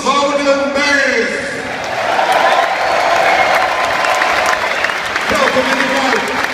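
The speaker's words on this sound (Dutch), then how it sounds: "En laat je horen voor hem, Lucas Woudenberg." A stadium crowd at an open-day player presentation in De Kuip applauds and cheers loudly and steadily for a Feyenoord football player, with a broad roar and a brief lull midway.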